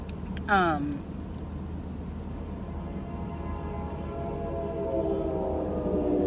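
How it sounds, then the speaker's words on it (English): A train going by a car stopped at a crossing, heard as a steady rumble with a rising horn-like tone under constant talk in the vehicle. "the train just went by"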